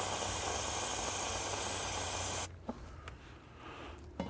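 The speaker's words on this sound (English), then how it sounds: "I'm going to hit it with some brake clean, just clean up any debris that may be around it" Brake cleaner sprayed from an aerosol can onto the transmission fill plug of a 2016-or-later Volvo XC90 makes a loud, steady hiss for about two and a half seconds. The hiss then cuts off abruptly, leaving a few faint clicks.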